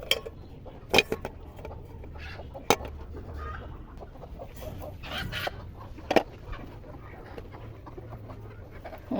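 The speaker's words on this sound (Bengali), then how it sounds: "আমার এই মুরগিগুলা দেশি, ফাউমি, সোনালি" Desi, Fayoumi and Sonali chickens cluck softly in a backyard poultry coop, with scattered sharp squawks and pecking sounds over quiet low ambience, no talking.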